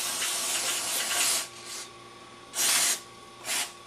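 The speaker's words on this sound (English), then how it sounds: "Might spray a little on your linkages to help free them up if they're gummed up." Carburetor cleaner sprayed from an aerosol can onto gummed-up carburetor linkages, a long hiss followed by several shorter bursts, close and fairly quiet.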